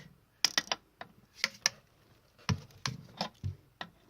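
A torque wrench tightens an engine head bolt, giving a string of sharp ratcheting clicks in uneven bursts, close and clear with short quiet gaps between them.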